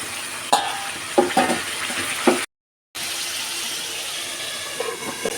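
Spice-rinse water hits frying chicken curry in a pan, producing a steady close sizzle. Several sharp stirring scrapes come early on, then a brief cut to silence before the hiss resumes.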